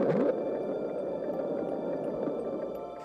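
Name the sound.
mysterious ocean noise recorded by NOAA hydrophones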